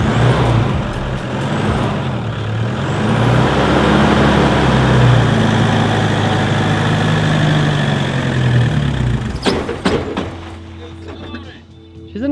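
A car engine idles steadily, loud and close, as the car is put in gear, with a few knocks and clunks in the last few seconds as the engine note dips.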